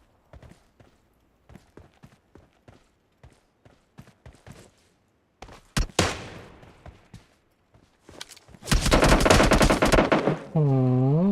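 PUBG Mobile gunfire: a string of sharp single shots in an uneven rhythm, then a loud close burst of automatic fire with a dense roaring stretch near the end.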